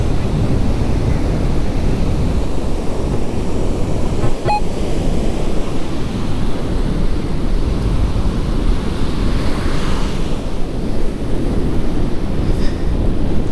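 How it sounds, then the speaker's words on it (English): Ocean surf rumbles steadily and loudly, rough waves washing and crashing without pause at Jensen Beach, with wind buffeting the microphone. "the ocean is very mean today, very angry"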